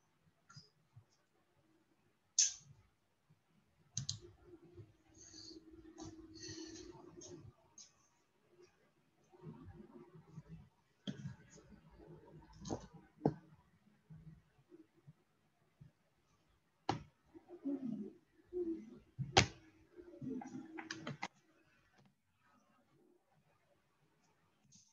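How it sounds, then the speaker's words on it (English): Typing on a computer keyboard, quiet irregular clicks and taps in short bursts with pauses between them, close by in an otherwise hushed room. "Vita is typing, everyone."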